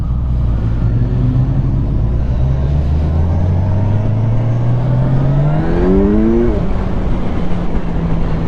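A Kawasaki Ninja 1000SX motorcycle engine revs loudly and up close, its pitch climbing steadily for several seconds before dropping off sharply. No one speaks.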